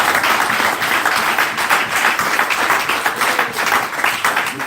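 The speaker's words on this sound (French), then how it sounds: "On acclame très fort le Seigneur" A church congregation at Peniel Tabernacle in Montreal claps loudly for the Lord in a dense, continuous burst of applause that fills the room.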